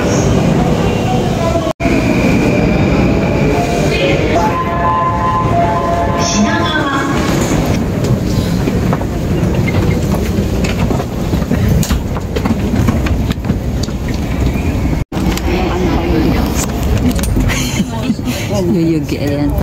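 A Japanese train ride with loud, steady rumbling of the rail car and rhythmic clacking over the tracks throughout, a couple of sharp clunks, and voices talking over the din.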